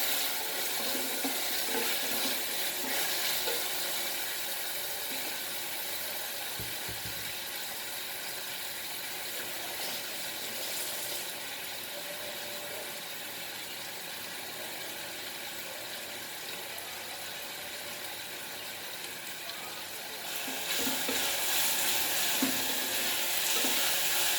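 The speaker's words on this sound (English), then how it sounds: "And fry nicely till the tomato is cooked." Tomato frying in a pan for Goan-style pulao rice, a steady broadband sizzle with occasional stirring scrapes running throughout, close and moderately loud, growing louder near the end, with no talking.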